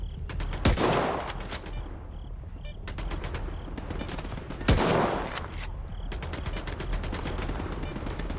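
Video game gunfire crackles in rapid bursts, with two sharper, louder shots standing out against a dense, continuous background of firing and battle noise.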